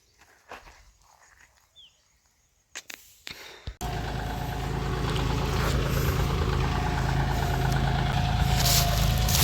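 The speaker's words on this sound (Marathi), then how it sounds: "ट्रॅक्टर आता रानामध्ये आलेला आहे" After a few quiet footsteps, a tractor engine roars in close and loud in a sugarcane field, then keeps running with a steady, heavy rumble.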